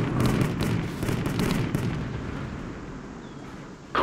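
Heavy artillery cannon fire in the World War Armies video game: a deep, loud blast rolling into a long rumbling decay, with a second sharp burst at the end.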